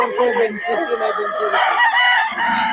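A rooster crows loudly and close, one long cock-a-doodle-doo with harsh, stretched notes, followed by a few clucks from other fowl nearby. No one speaks.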